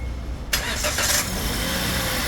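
A Perodua Bezza car fitted with a Nanex battery cranks and starts sharply, then settles into a steady, close engine idle.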